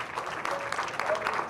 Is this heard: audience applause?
yes